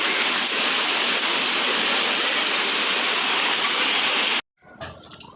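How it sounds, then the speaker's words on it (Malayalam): Heavy rain with water pouring off the edges of a concrete roof slab, a dense, steady hiss with no talk that cuts off abruptly near the end, leaving quieter, patchy drips and background sounds. "മിന്നു എത്തിക്കഴിഞ്ഞപ്പോൾ ഇതാ ഭയങ്കരമായിട്ട് മഴ ഉണ്ട് കേട്ടോ"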